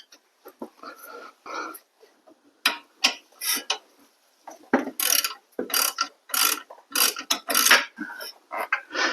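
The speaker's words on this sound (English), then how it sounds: "I just switched out to a longer ratchet here, but I'm going to get this tightened up" A ratchet with a 17 mm socket clicks in quick bursts while tightening a strut bolt on a 2010 Mazda 3, the pawl rattling close and loud between pauses, with someone talking over parts of it.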